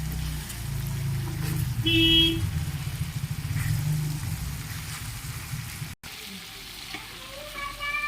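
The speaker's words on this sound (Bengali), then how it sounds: "এটাকে ভালোভাবে কষিয়ে নিলাম" Chicken is stir-fried hard in a pan, a loud steady sizzle with rhythmic scraping of the spatula. A couple of brief tonal beeps cut in, and the frying quiets after a sudden break.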